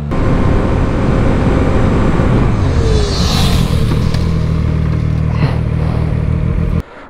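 A Chinese sport motorcycle, one of a CFMoto 675 SR-R, Zontes 703RR or QJMotor SRK800R, brakes hard from 80 km/h to a stop in third gear. Its loud engine note sinks and winds down over several seconds, then cuts off abruptly.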